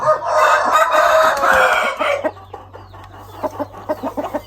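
A fighting rooster of the Koi Ngon breed crows loudly and close for about two seconds, then follows with a run of short rhythmic clucks over a steady low background hum, with no talking.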